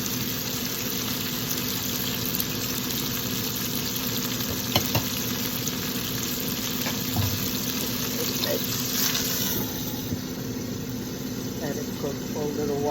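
Swordfish alla Messinese cooking in a pan, a soft steady sizzle and frying hiss with occasional stirring clinks, fairly close, while a person talks over it intermittently.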